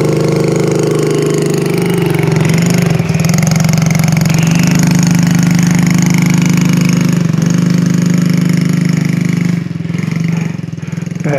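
A four-wheeler ATV engine runs loudly and steadily close by while being ridden around a farm, its drone holding an even pitch and easing off near the end, with no talk over it.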